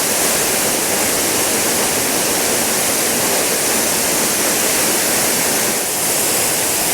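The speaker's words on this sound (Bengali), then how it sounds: "কি আওয়াজ এবং জলের স্রোত কি" Kanchenjunga Falls in West Sikkim near Pelling roars as a steady, loud wash of rushing, spraying water, a dense unbroken roar close by with no voices.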